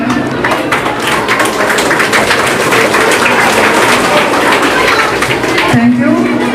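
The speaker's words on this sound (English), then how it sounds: "please give a big round of applause to them" Audience at a school speech event claps steadily for the full stretch, a dense, loud wash of hands with a faint tonal hum near the end.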